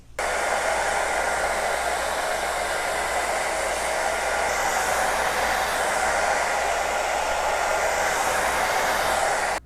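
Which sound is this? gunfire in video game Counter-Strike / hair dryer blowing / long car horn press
hair dryer blowing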